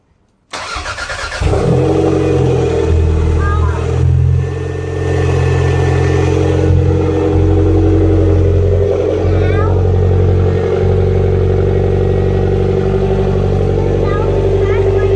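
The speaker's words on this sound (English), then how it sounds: "So let's start the engine and let it idle for 3 minutes." A Toyota MR2 Turbo fitted with a CT26 turbocharger cranks and catches, briefly revs, then settles into a loud, steady idle close by, with a voice speaking over it.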